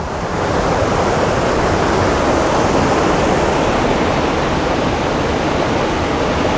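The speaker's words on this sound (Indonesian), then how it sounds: "di air terjunnya Ataun. Kedengeran nggak suaranya kira-kira?" Heavy water pours down the Ataun waterfall near Puncak, Bogor, a steady, loud, close broadband rush with no pauses.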